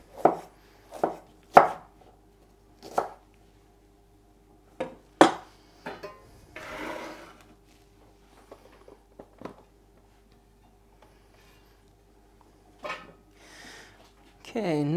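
A knife chops red pepper on a cutting board in sharp, spaced strokes close by, then a rustle and a few lighter taps follow, with quiet gaps between.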